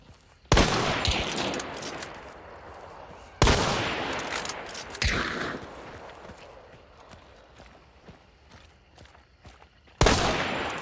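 Gunfire in the video game Hunt: Showdown: four loud, sharp shots spaced several seconds apart, each trailing off in a long echoing decay, with faint footstep-like clatter in between.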